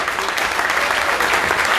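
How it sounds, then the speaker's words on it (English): Audience applause at a live bagpipe show, a dense, steady burst of many hands clapping throughout, loud and close. "Give them a round of applause."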